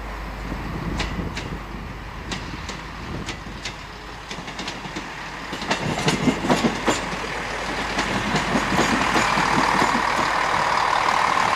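Class 158 Sprinter diesel train passing on a railway, rhythmic clickety-clack of wheels over rail joints with a rumbling engine swelling louder as it nears, no voices.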